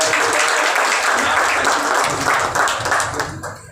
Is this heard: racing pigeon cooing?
no